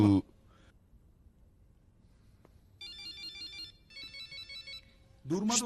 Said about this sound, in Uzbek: telefoning sira jim turmadi-da.